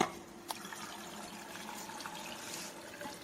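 Salted water pours into a basin to make pickle brine, a soft continuous splashing and trickle that begins with a small splash and stays faint and steady.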